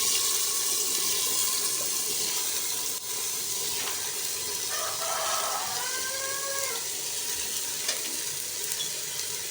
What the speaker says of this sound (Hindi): अब हम दाल का पानी निथार के वो ऐड कर देंगे